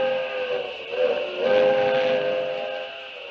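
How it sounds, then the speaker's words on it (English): A steam train's whistle sounds in a long, wavering tonal blast that swells and fades over a few seconds, with a faint hiss beneath and no speech. "I'd get aboard that train if it weren't so slow."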